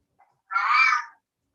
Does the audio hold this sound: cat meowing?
yes